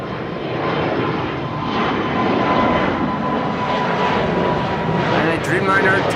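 A Boeing Dreamliner jet taking off from runway 18 left at Amsterdam Schiphol, a steady broadband engine roar with a faint whine, heard at a distance under continuous talk.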